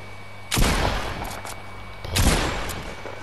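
Gunfire in a Fortnite match: two heavy, booming shots about a second and a half apart, each with a long rumbling tail, loud and close over quiet game ambience.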